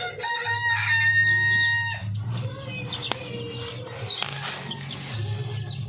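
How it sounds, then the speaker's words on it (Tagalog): Layer hens and a rooster on a breeder poultry farm, with a long crow rising over steady clucking early on, then scattered clucks and calls from several birds at close range. "At saka po itong chicken layer."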